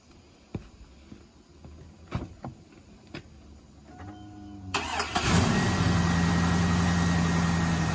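A car with a dead fuel pump wired directly to jumper cables cranks and catches, then settles into a loud, steady idle after a few faint clicks and knocks, with no talking.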